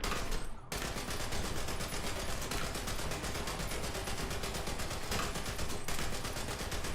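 Sustained machine gun fire from an M1 Abrams tank in War Thunder, a dense continuous rattle of rapid bursts that stays loud and steady throughout with no talk over it.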